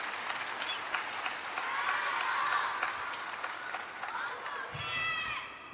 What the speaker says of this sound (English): You can hear the crowd still shouting his name